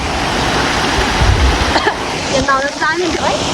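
Water runs steadily from a spout beside a village stream in the hills during monsoon season, a close, constant rushing hiss with brief voices over it near the end.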